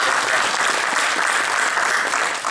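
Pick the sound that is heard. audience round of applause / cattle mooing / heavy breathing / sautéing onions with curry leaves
audience round of applause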